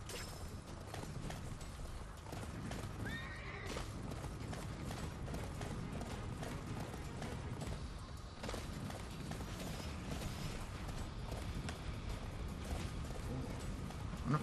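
Horse hooves clip-clop in the Attack on Titan Wings of Freedom video game on PS4, a steady mechanical patter running throughout amid a dense mix of game sounds, with a brief creak and a faint neigh.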